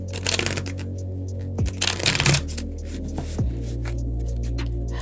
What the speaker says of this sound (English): I don't know why I can't shuffle cards right.